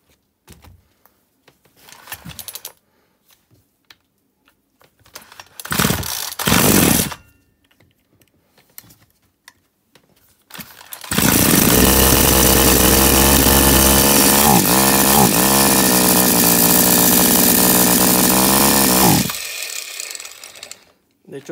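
A chainsaw with a fault that makes it stall, heard through a few short pulls and clicks, then the engine catches and runs loud and steady for about eight seconds before cutting out, with handling noises afterward.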